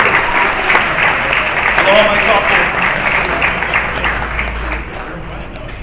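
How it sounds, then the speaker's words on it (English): An audience applauds the people who prepared the meal at the 2016 Aha Aloha Aina community forum in Hawaii: steady, dense clapping throughout, with a voice speaking over it near the start. "Let me give a round of applause for all the people that prepared the meai."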